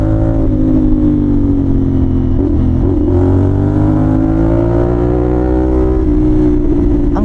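Kawasaki 450NK motorcycle engine with slipper clutch, revving steadily with a loud buzzing drone and slight pitch dips and rises as gears shift, heard close throughout.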